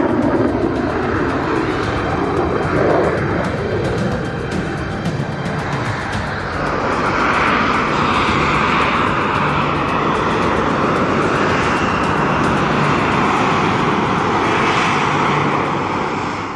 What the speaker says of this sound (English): he rotates the jet nozzles so that they point directly down